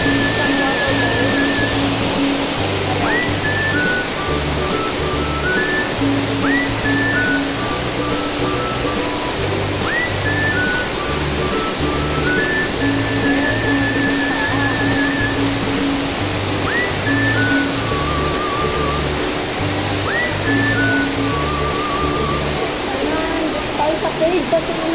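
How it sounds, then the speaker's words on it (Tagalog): A waterfall in Hong Kong Park sends out a constant broadband rush of falling water throughout, with voices and other tonal sounds layered faintly over it. "isang waterfall."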